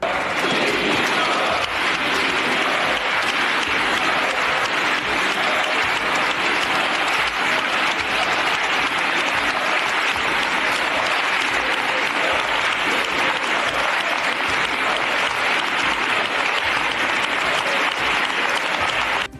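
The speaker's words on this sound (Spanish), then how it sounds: "96 segundos de aplausos" Long, steady applause from parliamentary deputies in the Spanish chamber, dense unbroken clapping at an even level for nearly twenty seconds with a faint high tone running underneath.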